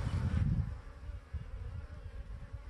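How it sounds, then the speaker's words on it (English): Honeybees fly around blooming dandelions on a cool spring day, a close buzzing hum that swells loudly at first and then continues as fainter, wavering drones passing the microphone. "The bees are out flying."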